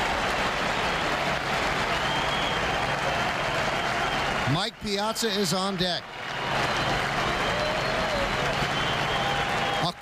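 A baseball crowd at a World Series game between the Mets and Yankees roars and applauds steadily as a loud, continuous wash of cheering, with an announcer talking over it.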